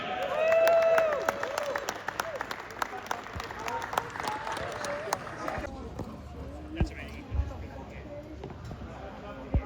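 An awards-ceremony crowd at a Targa Tasmania rally event claps and cheers around a trophy presentation, scattered sharp claps and a brief whistle over chatter and a speaking voice.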